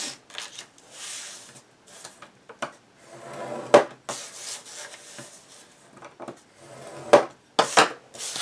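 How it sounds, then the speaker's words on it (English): Paper pieces for a mini album being scored with a scoring tool, giving repeated scraping strokes and sharp taps as the paper is flipped and scored again, fairly close and steady without talk. "So we're going to score 1/2 inch, flip, score 1/2 inch."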